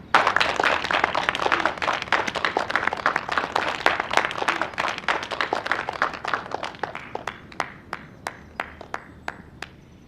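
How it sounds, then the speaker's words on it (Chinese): Crowd applause at an exhibition opening honoring a woman, dense clapping from many hands that thins out over several seconds into a few scattered, distinct claps at the end. "请大家把你们最热烈的掌声送给她。"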